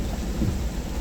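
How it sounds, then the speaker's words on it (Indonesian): Heavy rain pours over a residential housing complex during a thunderstorm, a dense continuous roar with deep rumbling underneath, loud and unbroken for a brief moment. "Baru kurang lebih sejam hujan di kompleks perumahan saya"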